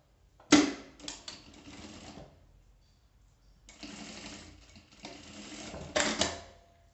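A sewing machine stitches through folded fabric for an eyeglass case. Two close bursts of rapid mechanical whirring, each lasting a second or two, are separated by a short pause. No one speaks.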